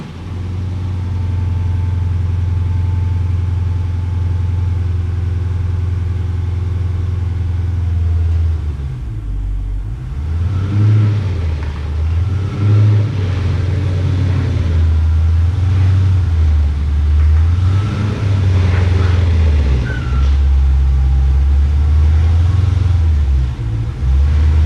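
Dodge Challenger Scat Pack pulled into a garage: a steady, deep engine rumble idling close by, swelling and wavering as the car creeps forward.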